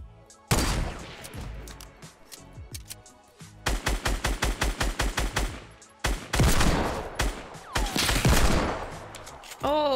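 Gunfire in the battle royale game Fortnite: rapid, loud bursts of automatic shots in quick rhythmic runs, broken by short pauses and repeated volleys across the scene.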